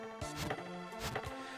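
An axe chopping down mushrooms in Final Fantasy Mystic Quest, two tonal game-sound chops about a second apart with swooping effects, clear and close with no talk.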